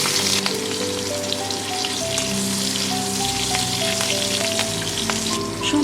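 Four slit green chillies sizzle steadily in hot oil while a hilsa curry cooks, a dense, continuous crackling fry with no voices.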